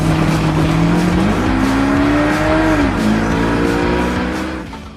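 V8 race cars drifting around a track: loud, close engine roar with rising and falling pitch, layered with tire squeal, fading slightly at the end.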